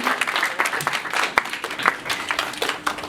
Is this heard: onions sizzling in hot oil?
no